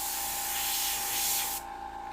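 Airbrush spraying paint onto a tabletop miniature, a steady close hiss of pressurized air and atomized paint that runs alone and then cuts out near the end.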